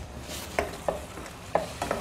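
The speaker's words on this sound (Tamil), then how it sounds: "இது போட்டு மறுபடியும் வதக்கலாங்க" Ground masala and tomatoes being sautéed in a pan for a peas gravy, with four sharp spoon scrapes and taps against the pan spaced irregularly over a soft, low sizzle, close and fairly quiet.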